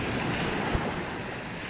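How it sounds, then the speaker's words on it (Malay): Big ocean surf breaking at a river mouth, a steady loud wash of waves mixed with wind buffeting the microphone throughout, with no talk. "Ombak boleh tahan besar lagi ya."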